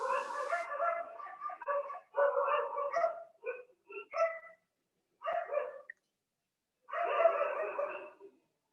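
A dog barks and yelps in repeated bursts, some short and choppy, others longer and drawn out, separated by brief silences.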